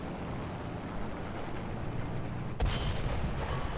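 Artillery fire in the tank game War Thunder: a low rumbling battlefield backdrop, then one sudden loud blast that leaves a lingering roar.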